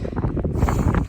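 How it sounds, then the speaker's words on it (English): Strong wind buffets the microphone on an exposed mountain trail, a loud continuous low rumble with gusting surges through the whole short moment. "So windy."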